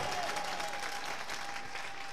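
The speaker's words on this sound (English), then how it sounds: "Can you clap for the authenticity of the word?" Church congregation applauding during a sermon, a steady dense wash of many hands clapping at moderate distance, with a faint sustained tone running underneath and no clear talk.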